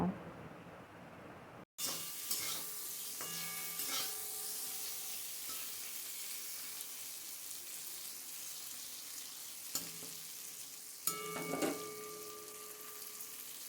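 Fried okra being turned in a pan for a mustard-style Bengali dish: a soft, continuous sizzle with occasional utensil clinks and scrapes, fairly quiet and without speech.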